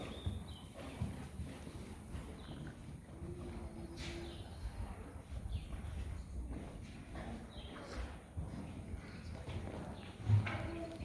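Horse hooves in a riding lesson, landing as a steady rolling clip-clop of a canter and trot across the whole stretch, close by and fairly even, with an instructor's voice faintly in the background.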